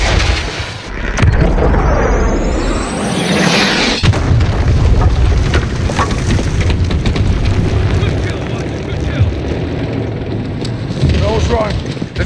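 Artillery strike explosions in Call of Duty: Modern Warfare (2019) boom across a battlefield at a bridge, a whistling incoming round followed by a heavy blast and sustained rumbling impacts, loud throughout with radio voices in the mix.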